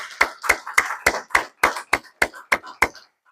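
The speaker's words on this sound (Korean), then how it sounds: "우리 하나님께 영광의 박수를 올려드리겠습니다" A church congregation clapping in unison during Sunday worship, about ten sharp, evenly spaced claps in a steady rhythm, close and clear, ending in silence.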